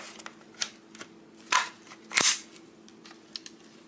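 A Hungarian FEG AK47 tanker magazine seated into an M70 AV2 rifle: a couple of sharp metallic clacks and a firm click, close and crisp, amid small handling taps, with no talking.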